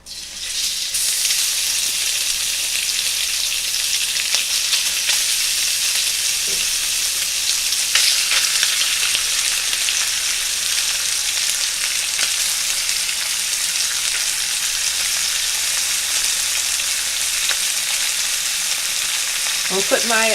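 Pork stir-frying in hot oil in a wok gives a loud, steady, close sizzle that runs without a break, with faint stirring clatter near the end.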